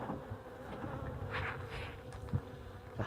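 Honeybees buzz steadily and close by in an opened hive during an early-spring colony check in cold weather, a dense, continuous hum with a few sharper passes and no one speaking.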